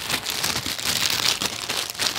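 A plastic bag wrapping a Nintendo Switch handheld grip crinkles continuously as it is handled, a close, busy rustle that swells and eases without pause for a couple of seconds.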